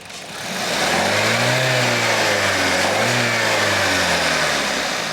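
A Maruti Suzuki Brezza's 1500cc naturally aspirated engine revs up from idle, swelling loudly in two rising and falling revs, close and alone without talk.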